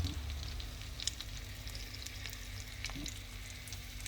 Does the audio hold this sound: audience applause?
no